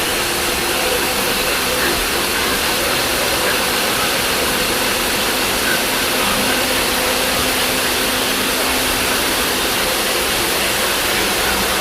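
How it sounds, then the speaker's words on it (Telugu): A granite cutting machine slices raw granite blocks in a factory in Madanapalle, a dense, steady roar of grinding and rushing noise that holds loud and unbroken throughout with no pauses. "ఈ రా గ్రానైట్ అంతా తీసుకెళ్ళి ఇలా కటింగ్ మిషన్లో పెడతారు. అక్కడ కట్ చేస్తుంది చూసారా"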